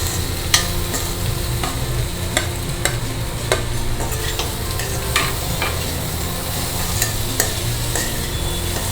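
Mixed vegetable curry with paneer stirred in a pan: a steady sizzling bed under repeated sharp scrapes and clicks of a spoon against the pan, close and even throughout, with no voices.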